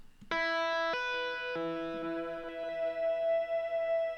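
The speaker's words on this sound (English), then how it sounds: "This is for echo." Echo effect applied to panned tracks in a psychedelic outro mix: a struck chord of sustained, ringing tones rises out of silence, with new notes layered in and everything smeared into a long, echoing decay.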